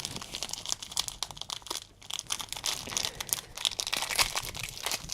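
The plastic wrapper of an apple and cinnamon cereal bar from a German Army 24-hour ration is crinkled and torn open close up, in a busy run of crackling rustles with one brief pause.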